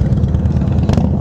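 A loud motorcycle engine rumbles steadily up close, with a brief rise in pitch near the end.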